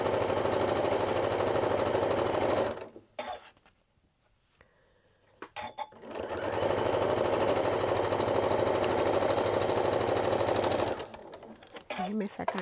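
Sewing machine chain piecing gingham cotton squares, a steady fast mechanical whirr that stops for a couple of seconds, then runs again, while someone talks over it.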